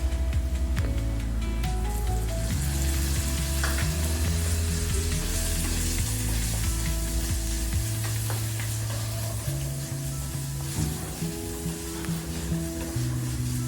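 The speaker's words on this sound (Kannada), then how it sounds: "ಸೊ ಟೊಮೆಟೊ ಮತ್ತು ಆನಿಯನ್ ಚೆನ್ನಾಗಿ ಎರಡು ಕೂಡ ಫ್ರೈ ಆಗಬೇಕು." Tomato and onion fry in a pan for a chicken sukka, a continuous loud sizzle with intermittent stirring scrapes and clinks, steady from start to finish without speech.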